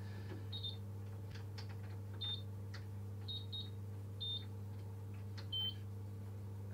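Short electronic beeps sound from digital heater controls being set, several quiet high tones spaced irregularly over a steady low mains hum, with no talking.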